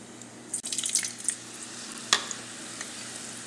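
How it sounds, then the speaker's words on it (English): Somasi (karchikai) pastries frying in oil over low heat, with faint sizzling and bubbling, light stirring clicks and a sharp splash-like crackle midway, quiet and close with no talk. "See, I'm frying this."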